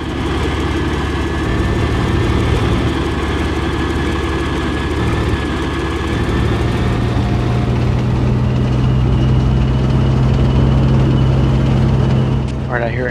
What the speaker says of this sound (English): I hear an enemy tank from the east end of Krasnovia City